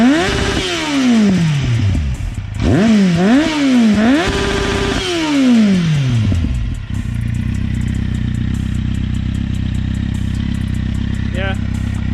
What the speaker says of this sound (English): this is the new exhaust on the bike,